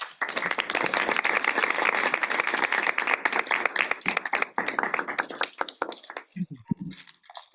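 Audience applause welcoming Professor Henry Giroux at an academic lecture on critical language pedagogy, dense steady clapping from a hall that thins into scattered claps and fades out near the end.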